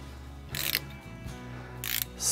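Brake bolts on a Chevy Colorado ZR2 being tightened with a wrench or ratchet during a brake pad replacement, two short bursts of clicking close by with a low hum between them.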